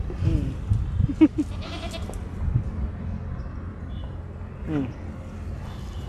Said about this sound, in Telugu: మా గొర్రెలు అయితే అటైతే మేస్తున్నాయి